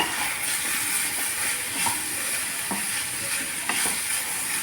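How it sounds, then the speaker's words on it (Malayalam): Thoran stir-frying in a covered pan with crushed cumin and garlic, a steady close sizzle with occasional soft scrapes of a spoon stirring, no talk. "തോരത്തിൻ്റെ മൂടി ഒന്ന് തുറന്ന് ഒന്ന് ഇളക്കി"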